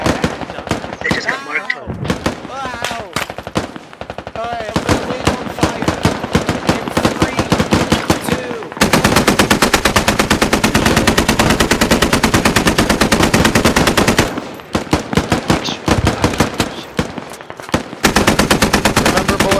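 Machine gun suppressive fire in the game Squad comes in long, loud, rapid bursts, with a sustained close stream in the middle and shorter rattling volleys around it, and some talk mixed in.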